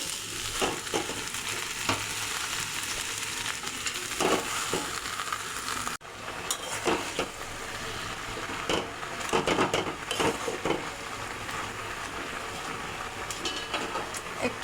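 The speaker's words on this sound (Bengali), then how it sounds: "এখন আমি কেটে রাখা শাকগুলো দিয়ে দেবো" Chopped greens go into a pan of frying potatoes and fish, giving a soft steady sizzle with scattered clinks and scrapes of stirring and a brief break partway through.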